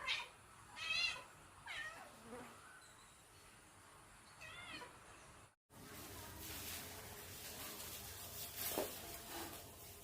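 Pet cat meowing several times close by, with high drawn-out mews in the first half, then a cut to busier indoor background noise with a fainter cry.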